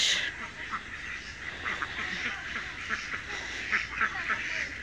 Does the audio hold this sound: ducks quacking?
yes